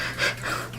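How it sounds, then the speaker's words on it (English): Quick, breathy panting sounds come in two or three close, airy pulses, rapid and fairly loud, with no talk. "Heavy breathing."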